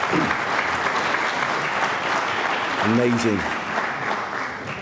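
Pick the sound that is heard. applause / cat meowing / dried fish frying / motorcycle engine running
applause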